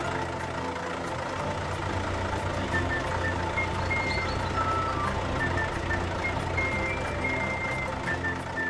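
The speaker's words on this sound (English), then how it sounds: "A large truck is already bringing crushed asphalt." Cartoon truck hauling crushed asphalt reverses, its backup alarm beeping at a steady even pace over a constant low engine rumble, loud and close throughout.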